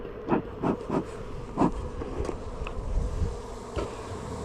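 Honey bees from a nucleus colony buzz steadily during a transfer into a hive, with individual bees zipping close past in brief louder passes over a dense background hum.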